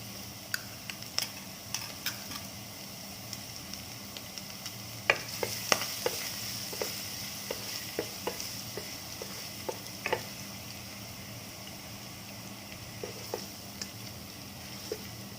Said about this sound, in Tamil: எண்ணெய் சூடாச்சு. இப்போ நம்ம பூண்டு போட்டுக்கோம்.